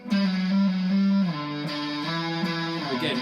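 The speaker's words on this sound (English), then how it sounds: "If you have any kind of distortion on your amp" An electric guitar rings through an amp with distortion, playing a few sustained, gritty notes that shift pitch every second or so, loud and alone.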